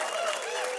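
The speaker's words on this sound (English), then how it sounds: "big round of applause for Foster" Audience applause for a ventriloquist's puppet named Foster on a studio talk show, a brief dense wash of clapping at steady loudness.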